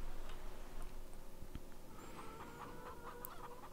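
Chickens in a Farming Simulator 19 farmyard cluck softly against a low background hum, with a few brief clicks and a faint chirp, quiet and steady with no talking.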